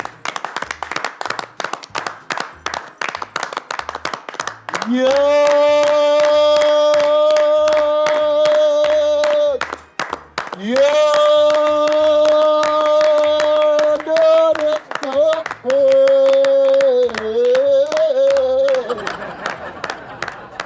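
An audience claps briskly for several seconds in a talent-hunt show studio, welcoming a performer, before sustained musical tones take over and continue to the end.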